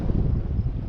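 Wind buffets loudly and steadily across an open lakeside fishing spot on the Shardara reservoir, a low continuous rumble with no voices.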